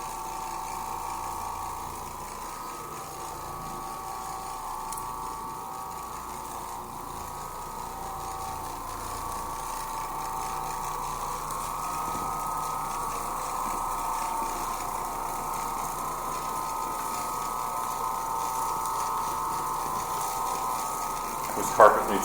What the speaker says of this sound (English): you might notice we're using a different Oreck orbiter than we usually use